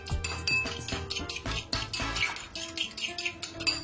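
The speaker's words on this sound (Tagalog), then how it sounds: "Babatihin nyo muna yung itlog, kagaya nito." Eggs beaten in a bowl with vinegar added for a soup, rapid clinking and scraping of a utensil against the dish in a fast steady rhythm, loud and close.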